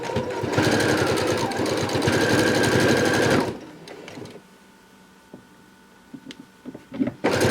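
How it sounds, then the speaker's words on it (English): A sewing machine runs fast and steadily for about three and a half seconds while sewing a ruffle, loud and close, then stops, followed by quiet fabric handling and small clicks. "And then you're just going to sew it all the way down."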